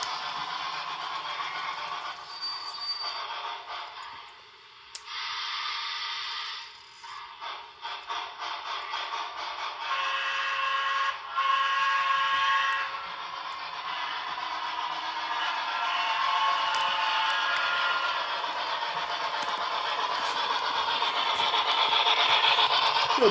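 A model PRR B6sb steam locomotive runs at full throttle, its electric motor producing a steady, close, high-pitched whine with rattling that gradually rises in intensity, no speech.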